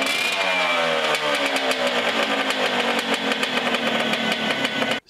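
A Cagiva Freccia C12R motorcycle engine idles steadily after a restart, with a dense, continuous two-stroke burble and harmonic whine; it sits close and loud, and no voices are heard.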